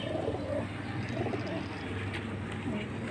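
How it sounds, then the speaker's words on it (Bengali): Pigeons, both healthy and sick birds kept together, coo in low repeated throaty calls that overlap closely with a soft background murmur. "এখানে আমার সুস্থ কবুতর আছে, অসুস্থ কবুতর আছে"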